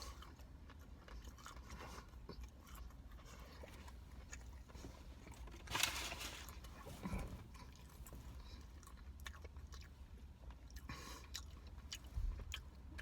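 Someone eating a Wendy's Spicy Asiago Ranch Chicken Club sandwich, with soft close-up chewing and a few crunchy bites, one louder crunch standing out midway, no talking.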